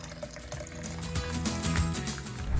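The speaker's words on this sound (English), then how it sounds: "then the rest just gets filled with water" Water pours steadily into a large insulated mug holding two tea bags, a close continuous gurgling stream whose tone shifts as the mug fills.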